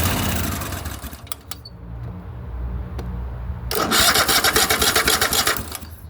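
A Cub Cadet Super LT 1550 lawn tractor that won't start cranks its engine with brief bursts, then catches into a loud, steady rough running sound that continues to the end.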